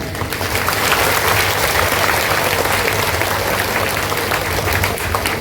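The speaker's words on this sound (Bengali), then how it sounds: "সবাই মিলে একটু করতালি দিয়ে অভিবাদন করুন" Audience applause at a Bhagavata recitation gathering, a dense, loud and sustained crowd of hands clapping evenly across the whole stretch.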